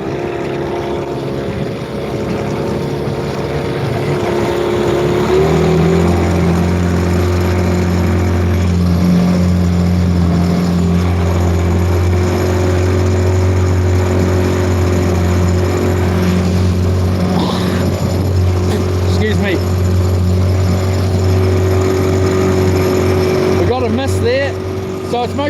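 New outboard motor on a fishing boat running at a steady, high-pitched idle, loud and constant for the whole stretch while people talk over the drone.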